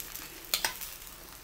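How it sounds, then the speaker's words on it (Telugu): Bobbatlu, a sweet stuffed flatbread, roasting in ghee on a hot pan, giving a soft continuous sizzle with two sharp crackling bursts near the middle, close and quiet with no speech. "పెనపై వేసి కాల్చుకొని దాని మీద కొంచెం నెయ్యి వేసేయండి."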